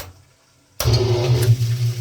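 A Jiyo submersible electric water pump on a control panel starts abruptly after near silence, jumping into a loud, steady motor hum with rushing water, close by and continuous.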